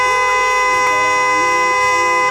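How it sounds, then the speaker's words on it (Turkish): A car horn in Roblox blares in one long, loud, continuous honk, close by, lasting a couple of seconds. "bana korna çalıyorsun"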